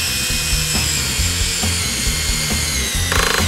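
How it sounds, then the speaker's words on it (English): A power drill runs continuously into a wall stud behind gypsum drywall, a steady loud whine with small load changes and a brief higher-pitched rise near the end. "the way you absolutely know you hit a stud is when you drill in"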